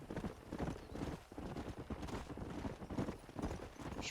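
Horse hooves clip-clop in the Red Dead Redemption video game: dense, continuous hoofbeats from several horses on the move, close and fairly loud, with no talk.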